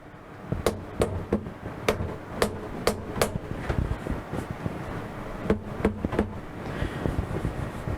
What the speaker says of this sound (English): you use a plastic or a rubber or leather hammer to do that